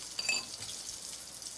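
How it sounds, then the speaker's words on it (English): Chicken of the Woods mushrooms fry in a pan with a soft, steady sizzle and faint crackle, close but quiet, with a light clink of a utensil near the start. "Doesn't take but just a few minutes for it to fry"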